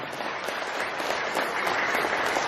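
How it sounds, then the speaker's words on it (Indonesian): Steady crowd applause at a business seminar, an even wash of clapping from an audience, moderately loud and continuous throughout. "Tepuk tangan buat Anda semuanya."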